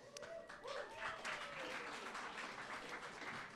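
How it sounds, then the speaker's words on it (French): A crowd applauds steadily throughout, dense clapping at moderate volume with a brief voice near the start. "Belle main d'applaudissement bien méritée pour Alexis et toute son équipe."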